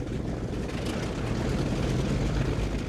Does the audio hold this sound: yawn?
no